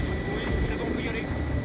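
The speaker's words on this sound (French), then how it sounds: "L'hélicoptère se pose alors en appui patin" A rescue helicopter settling onto its skids at a rockfall site to drop off rescuers, its rotor and engine a loud, steady broadband roar that fills the whole stretch while a voice talks over it.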